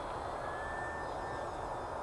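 A small engine whines steadily with a high pitched drone, close and continuous, as a model airplane powers up and takes off.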